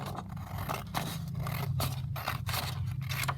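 Scissors snip across paper while trimming a side-loading paper pocket, a series of sharp crisp cuts and scraping slides repeating at an uneven pace, close and clear.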